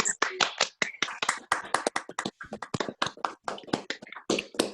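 Scattered clapping from participants in an online meeting, many separate sharp hand claps in uneven overlapping rhythm, fairly close and clear with no talking over it.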